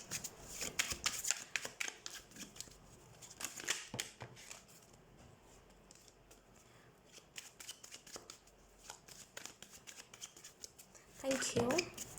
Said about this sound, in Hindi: let's shuffle your cards